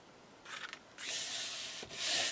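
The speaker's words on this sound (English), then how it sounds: "Get that burnished nicely." Tape being burnished onto a cardboard box for craft room storage: a short scrape, a pause, then steady, close rubbing strokes that continue to the end.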